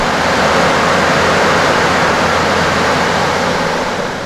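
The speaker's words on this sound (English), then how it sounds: "So there the waves are going down and then once they lift, they push a lot of air into this little gap." Sea waves on the Spanish coast force air through a small gap in the rocks, a loud, steady, roaring rush of air and surf that fills the clip without a break before easing slightly at the end.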